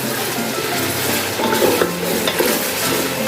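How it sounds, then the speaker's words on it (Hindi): Mutton frying with garlic paste in a karahi gives a steady, close sizzle, and a utensil scrapes and stirs through it in a few louder bursts. No one speaks. "अब मैं इसकी अच्छी तरह बुनाई करूँगी"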